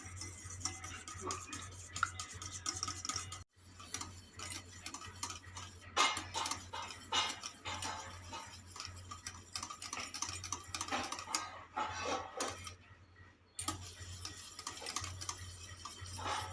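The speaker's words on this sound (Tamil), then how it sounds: "ரெண்டு முட்டையை உடச்சி ஊற்றிக்கலாங்க மிக்ஸ் பண்ணிக்கலாம்" Two broken eggs being stirred in a bowl for an evening snack batter, with continuous quick clinking and sloshing strokes, close up with brief pauses, no talk.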